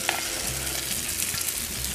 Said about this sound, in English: Immediately, hear that sizzle? We're going to add that cornmeal batter.